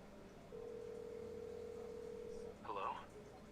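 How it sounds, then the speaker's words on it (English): A phone dials a number, a steady dial tone holding for about two seconds before a short burst of dialing tones, quiet and close. "I pick up my phone and dial Raphael's number"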